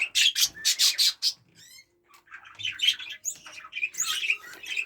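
Zebra finches, budgies and canaries in an aviary chatter together, bursts of close squawks, chirps and tweets overlapping with brief pauses between.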